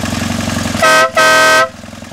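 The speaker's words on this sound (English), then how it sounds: "Now for the horn mounted right in the spot of the stock one. It's called a Bad Boy air horn." A Bad Boy air horn fitted in place of a vehicle's stock horn sounds two loud, bright blasts, one short and one longer, over a close, idling engine.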